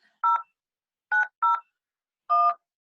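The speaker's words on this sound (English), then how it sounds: "Can y'all hear the dial tones?" Telephone keypad tones from a participant's phone dialing into a webinar call, four short beeps in an uneven sequence, two close together, clear and isolated against silence.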